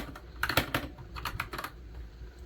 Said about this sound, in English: Obviously, you can see how fast I'm typing and how it's coming up right away.